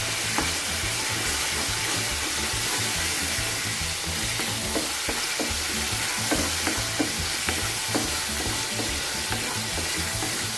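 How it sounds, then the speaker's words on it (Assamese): Steady, dense sizzling of coriander, cumin and chili powder frying in a hot pan for an egg curry, loud and continuous with occasional stirring scrapes, no voices. "এনেকৈ ভাজি থাকিব লাগিব ইয়াত অলপ টাইম।"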